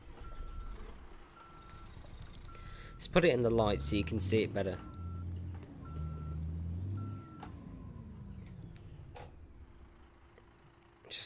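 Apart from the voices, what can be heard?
truck reversing beeps, Volvo truck in Euro Truck Simulator 2 video game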